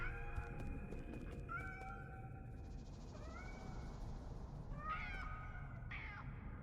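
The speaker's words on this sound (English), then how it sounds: "Those are just cats." Cats meowing in the video game Nine Sols, several rising and falling meows in turn over a low, steady background hum, with no talk.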